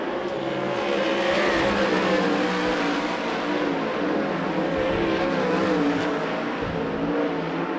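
Wing sprint cars racing in a heat at Arizona Speedway, a dense, loud engine roar with rising and falling revs as several cars circle the dirt oval, steady throughout.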